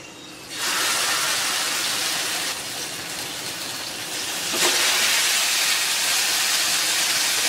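Pieces of chicken tandoori hit a buttered hot pan and set off a loud, steady sizzle that swells and holds, rising again partway through.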